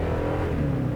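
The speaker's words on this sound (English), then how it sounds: "you really kind of feel it to just be a very burly engine" A 2018 Toyota Tundra 1794 Edition pickup truck engine pulling under acceleration, a deep, steady, burly rumble heard close and loud for a second with no talking.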